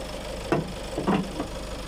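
A 2015 Ford Kuga fitted with a Peugeot-made engine idles steadily up close, its low hum broken by a few brief louder clatters, with no talking.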